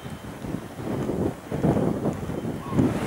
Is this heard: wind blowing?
yes